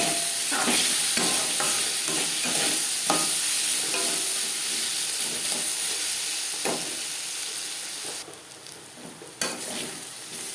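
Potatoes stirred in a pan with ginger and green chilli paste for a potato and okra curry, a busy sizzle broken by repeated scraping stirs, fading quieter toward the end with a final clack, no voices.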